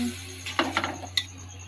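Chicken curry stirred in a pot with a metal spoon, a few brief clinks and scrapes against the pot over a steady low hum, no talking.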